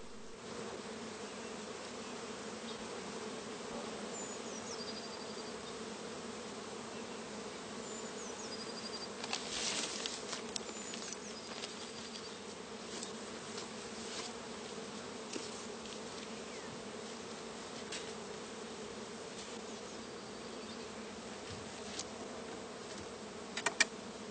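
Honeybees buzz steadily around an opened multi-body beehive at an apiary near orchards, a dense, continuous close-up drone with faint scattered clicks and no talking.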